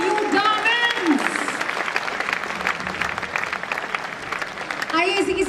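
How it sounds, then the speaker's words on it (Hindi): Audience applause at a business success event fills the space loudly and steadily, with cheering voices and an announcer's speech layered over the clapping at the start and end. "तालियां बजती रहनी चाहिए"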